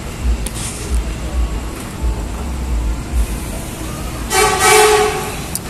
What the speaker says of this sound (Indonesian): ada kereta bandara mau lewat ke arah Manggarai